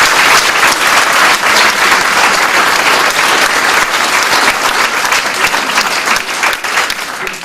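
A crowd at a political speech applauds M. Jean Grenier, loud dense clapping that holds steady and then begins to thin near the end.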